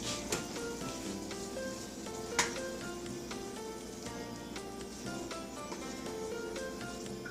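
Finely chopped fresh tomatoes sizzle and fry in a pan over a high flame for an Indian-style tomato pickle, with a steady close hiss broken by the scrape and clatter of stirring.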